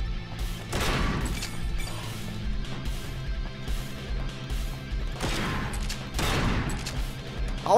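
Shotgun fire in the dystopian roguelite first-person shooter Bunker Punks. Loud, booming blasts go off in a few separate bursts, one near the start and two close together later, with game noise between them.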